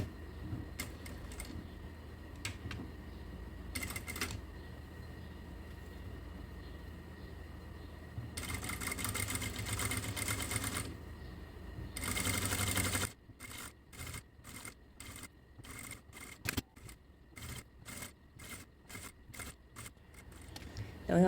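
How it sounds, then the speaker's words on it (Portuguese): A sewing machine stitches down the middle of ric-rac trim on fabric for a lingerie pouch, running in stop-start bursts with a long steady whir, then rapid ticking pulses, fairly quiet and close. "vou vir com a máquina de costura e passar uma costura aqui no meio"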